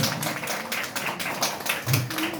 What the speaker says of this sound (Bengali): হাততালি দিয়ে ওনাকে ওয়েলকাম জানান প্লিজ